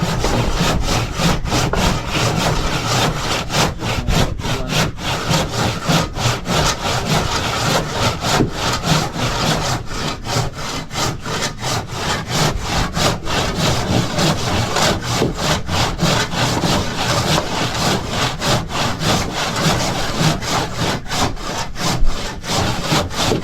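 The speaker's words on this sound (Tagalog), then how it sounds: "dalawa yung naglalagari na mga kabisig" Two people saw wood with hand saws, making loud, close, rhythmic rasping strokes that overlap in a fast, continuous back-and-forth pattern with no talk.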